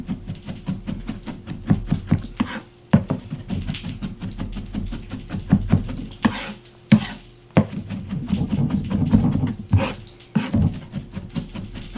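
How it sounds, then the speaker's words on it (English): Knife mincing bacon and pork belly on a cutting board, fast irregular chopping taps close up with short pauses between bursts. "Get this nice and evenly minced."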